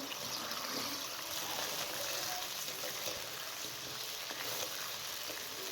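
Sugar melting in a cup of water in a pan for zarda, a steady soft sizzle and bubbling hiss running evenly throughout, quiet and close with no talking.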